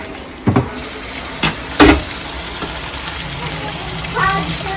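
Chicken fries in a pan with a steady, continuous sizzle, broken by a few louder clatters and stirring scrapes, and a brief tap-like splash near the end.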